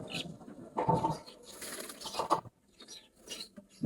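Pigeons coo and stir close by in a few short, uneven bursts, with soft patter and rustling between calls and no talking.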